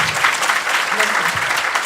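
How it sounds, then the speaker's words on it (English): An audience at a leadership summit in Cambodia gives a dense, steady round of applause, with many hands clapping together, close and continuous. "Can you give them a big round of applause?"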